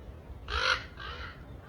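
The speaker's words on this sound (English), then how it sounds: "that was a crow" A crow gives two harsh caws in quick succession, the first louder and the second slightly softer, heard at moderate distance over a low background rumble.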